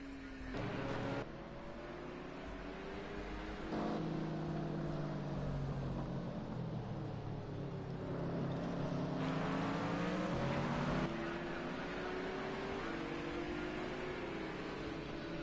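A GT3 race car closes on and passes slower GT4 cars at Fuji, with engines revving and shifting through several gear changes in a continuous, fairly loud roar that swells as cars go by.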